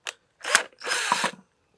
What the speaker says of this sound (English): And we're moving on up to the final drill bit size